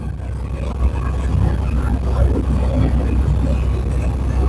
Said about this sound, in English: You hear the truck struggling?